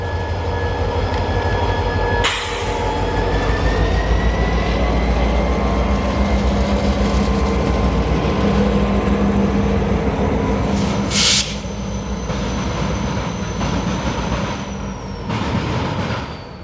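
A CSX local freight train and an NS coal train rumble steadily for over fifteen seconds, with constant rolling wheel noise and faint squeal, a couple of sharp bursts, and no voices.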